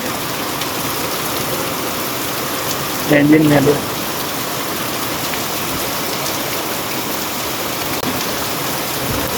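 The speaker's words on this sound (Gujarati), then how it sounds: "અત્યારે વરસાદ પડે બહાર નીકળી તો હું પલળી જઈશ" Heavy rain pours steadily outside as a dense, even hiss that lasts throughout, with a brief voice cutting in partway through.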